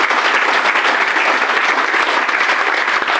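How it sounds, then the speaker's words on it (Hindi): A loud, dense burst of applause from an audience at a health awareness program, continuous clapping throughout with no speech over it. "मैं चाहता हूं बहुत जबरदस्त तालियां आई ड्रॉप के लिए"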